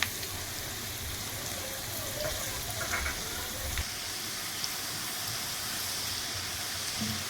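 Chopped onion crackling and frying in ghee with curry leaves for a ghee roast chicken, a dense, even, rain-like sizzle at moderate volume with a few faint clinks.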